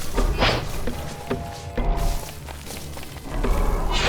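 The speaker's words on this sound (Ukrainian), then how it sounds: "Диви, сокира поламалася об його ногу." An axe strikes the leg of an Ent in Don't Starve Together, landing as several dull, heavy thuds spread across a few seconds with no talking.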